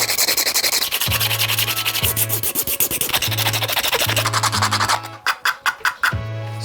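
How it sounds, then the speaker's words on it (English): Light hand sanding of 3D-printed parts, a rapid series of scratchy back-and-forth rubbing strokes, close and steady, turning into shorter, sharper strokes toward the end. "Then do some really light sanding just to make sure everything's nice and flush."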